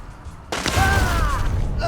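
A single loud, close gunshot in the western shooter Hunt: Showdown lands a headshot. A sharp report comes about halfway through, followed by a ringing, decaying tail.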